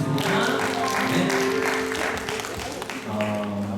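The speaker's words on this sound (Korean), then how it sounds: "믿음으로 살게 하신 우리 하나님께 영광의 박수 드리겠습니다." Congregation applauding during a Sunday church service, a sustained wash of clapping over a steady hall tone, with some speech mixed in and fading toward the end.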